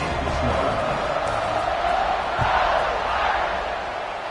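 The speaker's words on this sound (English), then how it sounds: "this crowd now ready to get behind them" Stadium crowd roaring steadily at kickoff in a college football video game against USC, a dense continuous wall of cheering with a brief thump partway through.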